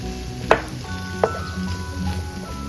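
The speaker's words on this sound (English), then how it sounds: "Now that the tomatoes are softened already, I can add the bittermelon. Just continue stirring it" Bittermelon and softened tomatoes sizzle in a pan for ampalaya, a steady close frying hiss with two sharp scrape knocks of the spoon as they are stirred, no voices.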